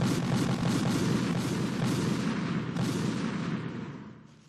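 Bomb exploding in the video game Metal Gear Solid 2, a loud, sustained rumbling blast with crackling debris that rolls on for several seconds before fading out at the end.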